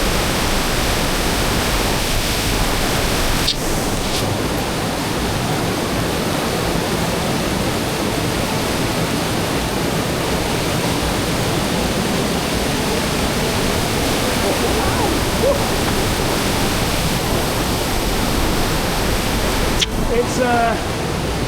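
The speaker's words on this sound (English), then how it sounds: "It's a very big waterfall." A big waterfall in Wanaka, New Zealand roars as a steady, loud broadband wash that fills the whole stretch without pause, close and constant.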